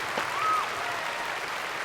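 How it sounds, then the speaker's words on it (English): Audience applause for Dan Atchison, a figure in the marching arts, heard as a steady, moderately loud wash of clapping that holds evenly throughout without voices. "let's give him a round of applause"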